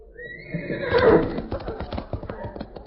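A horse whinnies loudly, the call rising then breaking into shaky pulses, with faint clip-clop and a little voice beneath.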